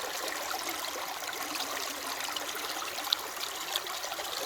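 Water washing through a gold prospecting sluice and spilling into a bucket, a steady hissing trickle and splash that runs continuously, close and moderately loud with no talk.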